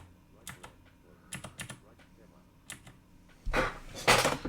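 Quiet clicks of computer keyboard typing in short bursts, a few scattered keystrokes followed by a louder, denser flurry of taps at the end, close and alone.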